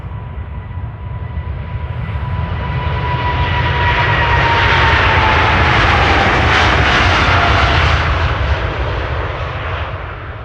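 Atlas Air jet freighter at Amsterdam Schiphol airport, a loud engine roar that builds and peaks as the aircraft passes close by, then eases slightly, with a faint descending whine through the rumble and no talk.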